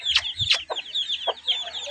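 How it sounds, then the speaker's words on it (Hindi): Chickens cluck and call at close range among a mixed flock of hens and small chicks, with several sharp clucks and squawks over steady chirping, no talking. "ये बड़ी मुर्गियां हैं"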